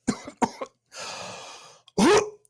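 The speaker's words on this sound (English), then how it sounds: "until finally he coughs." A man coughs several times in short, sharp bursts, then takes a long breath and gives one louder, rasping hack, all close and without other talk.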